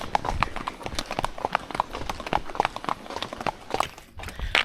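Horse hooves clip-clop in a steady, close rhythm during a group horse ride along a road in Kosovo, several animals walking together with faint background noise.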